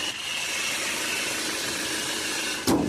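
A 2011 car's diesel engine idling with the bonnet closed: a steady, even rumble with a faint rattle, close and constant, then a brief knock near the end, no voices.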